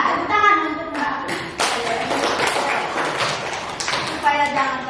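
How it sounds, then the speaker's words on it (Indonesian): Students clapping in an Indonesian school classroom, a burst of hand claps with children's voices talking over and around it, fairly close and steady. "minta tepuk tangan untuk Mbak."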